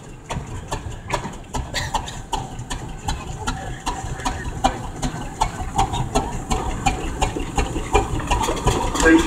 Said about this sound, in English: Flywheel used to drive the threshing drums.